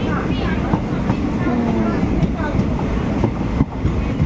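Steady, loud onboard rumble of a passenger train rolling along the tracks from Balurghat toward Siliguri, with a constant low roar and faint rhythmic rail clatter throughout.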